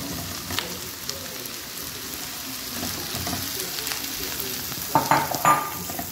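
Pumpkin cubes added to a pan of softened aromatics for a Brazilian refogado give a steady close sizzle of frying, with a few louder clatters of stirring near the end.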